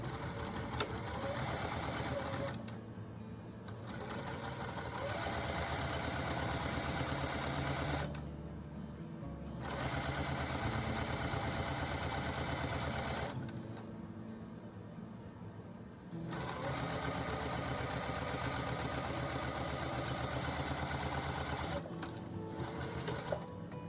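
Sewing machine stitching a butterfly log cabin quilt, running in long steady bursts of rapid mechanical chatter with brief pauses between runs, close and continuous.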